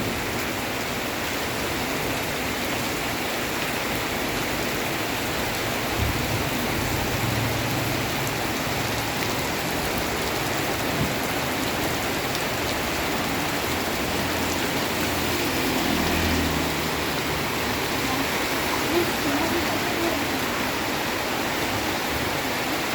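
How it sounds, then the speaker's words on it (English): Heavy tropical rain pours down steadily in Siem Reap, Cambodia, a dense, constant hiss of water hitting surfaces with no break, close and loud throughout, with no voices. "check out this rain."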